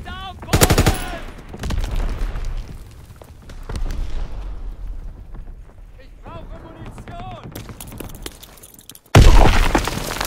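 Rifle and machine-gun fire cracks in a WWII trench battle in Call of Duty WWII, with sharp bursts near the start and a loud volley at the end, while voices shout between the shots.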